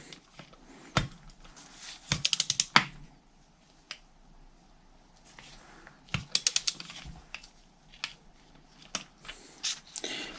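Soft clicks of a torque wrench set to 2 newton meters during cylinder head assembly on a Mitsubishi L200 MK3 K74 4D56 engine, a few sharp faint ticks scattered among quiet handling noises.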